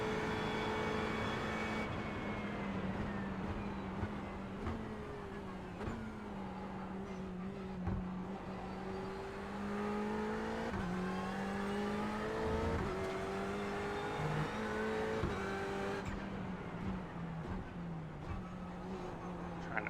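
The Ferrari 488 GTE race car in an IMSA racing video game at Daytona holds a steady, droning engine note that rises and falls slightly through gear changes, loud and continuous throughout.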